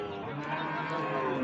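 A Sahiwal bull moos at a busy rural cattle market, a low sustained call rising over the steady crowd murmur of the livestock haat.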